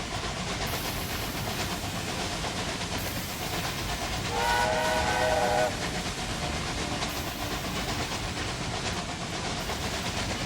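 A train rolls along the track in the video game Railway Empire 2, a steady dense rumble and clatter with a brief whistle blast in the middle, fairly close and continuous throughout.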